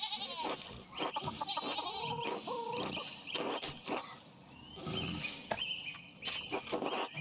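Chickens clucking in a video game set in 16th-century Bavaria, a busy mix of bleating and squawking animal calls with overlapping bursts of cackles, fairly loud and continuous throughout.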